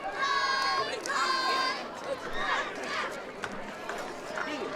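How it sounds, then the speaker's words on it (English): A large home crowd murmurs and cheers from the stands at a Peabody versus Humboldt high school football game. The noise sits in the background under an announcer who talks throughout. "Big crowd here from Peabody across the way"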